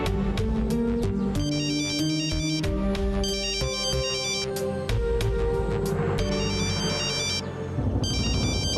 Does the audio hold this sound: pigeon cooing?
no